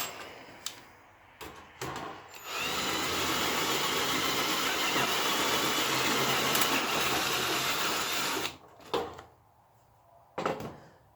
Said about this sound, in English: Punch your pilot hole.